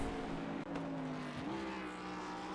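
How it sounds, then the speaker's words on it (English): NASCAR race car from the 1987 season in iRacing on the Willow Springs dirt course, its engine droning steadily, then dropping pitch on a downshift before revving back up, loud and continuous with no talk. "Oh, and Shane downshifting. You can hear that thing rev up."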